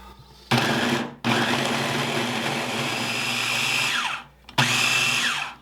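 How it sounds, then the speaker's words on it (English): A kitchen food processor pulses pastry dough for apple strudel into coarse crumbs, with two long loud motor runs broken by a short pause and a final brief burst, heard close up with no talking. "take our food processor and we're just going to pulse this down until you see it look like coarse breadcrumbs"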